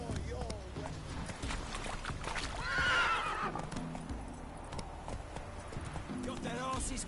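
Roach the horse in The Witcher 3 whinnies loudly mid-clip amid clip-clop hoofbeats, with a voice speaking over the game sounds at times.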